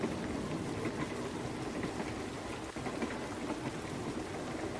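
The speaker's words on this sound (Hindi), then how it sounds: "कुछ समय बाद रात हो गई और बाहर हल्की फुल्की बारिश होने लगी।" Light rain falls outside at night, a steady, even hiss of fine drops spread across the whole stretch, faint and continuous with no voices.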